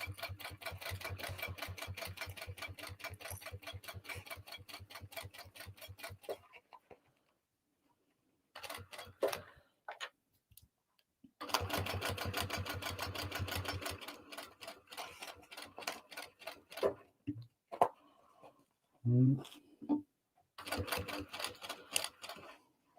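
A home sewing machine stitches a bag seam at 2.5 stitch length using a seam guide, fast even rhythmic clatter in long runs broken by pauses and short bursts, close and fairly quiet.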